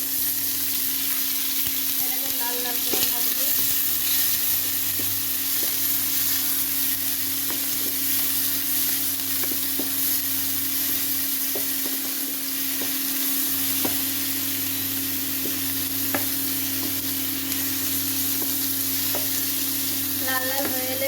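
Whole spices, dried red chilli, onion and green chilli fry steadily in hot oil in a pan, a constant close sizzle with a low hum and occasional small clinks of stirring throughout.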